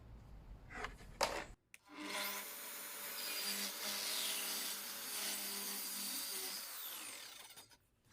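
A DeWalt track saw spins up and cuts through a wooden workpiece in one long, steady pass, a loud whining buzz lasting several seconds after a few soft handling knocks, then winding down.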